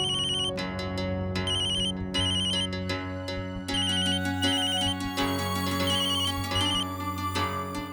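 A mobile phone ringtone plays a bright, repeating electronic melody with steady tonal chimes, continuous and moderately loud indoors, with no talking over it.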